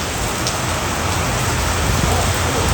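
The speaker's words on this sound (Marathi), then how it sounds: "खूप जोराचा पाऊस आलाय." Heavy rain pouring steadily on a street in Kerala, a dense, constant hiss of drops with a low rumble beneath, loud and unbroken throughout.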